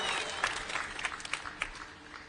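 Applause from a church congregation at an episcopal installation in a sports complex as a papal document is shown, a faint, distant patter of clapping spread over the crowd, with some murmuring.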